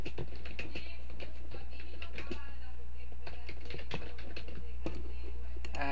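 Typing on a computer keyboard, a steady patter of clicking keys at close range over a constant low hum.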